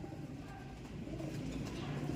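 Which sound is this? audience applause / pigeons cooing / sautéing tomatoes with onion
pigeons cooing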